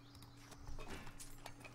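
Horse hooves in the village-building game Foundation clip-clop softly in a short, uneven run of hoofbeats, faint and alone.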